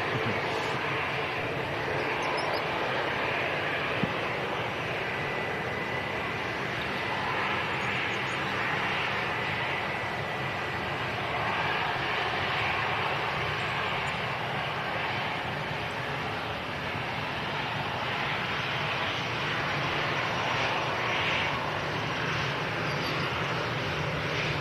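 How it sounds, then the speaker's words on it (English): Jet2 Airbus A321neo airliner at Manchester Airport, heard as a continuous broad engine roar and rushing noise that holds steady for the whole stretch, fairly loud and distant-sounding with no talk over it. "G-Sun F, one of the newest Jet2 A321 Neos here at Manchester Airport"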